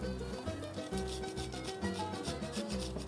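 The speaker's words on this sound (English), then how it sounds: "And then I grate some fresh Parmesan cheese in it." Fresh Parmesan cheese rubbed against a grater in steady back-and-forth strokes, a rhythmic rasping about six times in three seconds, close by, over a low tonal hum, with no one talking.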